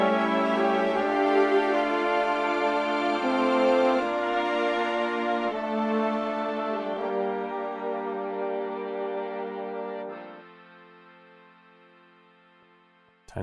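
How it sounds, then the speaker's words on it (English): Mellotron layered with real violins and cellos plays sustained chords with twinkly string textures, full and steady before thinning out and fading near the end. "mix the mellotron with the real strings"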